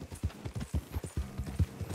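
Horse hooves clip-clop in Red Dead Redemption 2, a steady walking rhythm of about eight distinct, fairly close hoof strikes over a quiet outdoor backdrop.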